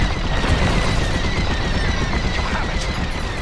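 Turret gunfire in the Star Wars: Squadrons space combat game, a dense, continuous barrage of blasts and booms rumbling loudly for the whole stretch without pause.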